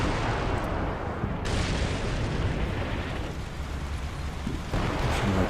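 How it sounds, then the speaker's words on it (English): Russian artillery barrages in the video game Combat Mission Cold War, a continuous dense rumble of distant booms and blasts filling the whole stretch, loud and unbroken with no talk. "Russian artillery is firing blindly."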